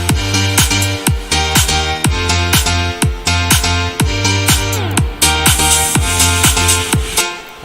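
Electronic dance music drop with a pumping kick and pitch-dropping sub bass hitting in a steady four-on-the-floor rhythm under dense bright synth chords, loud and continuous, ending in a short tape-stop slowdown.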